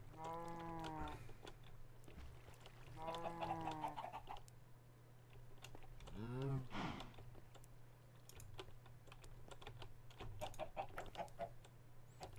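Chickens in the video game Minecraft give several bursts of clucking at intervals over a steady low hum, with quick computer keyboard typing clicking throughout.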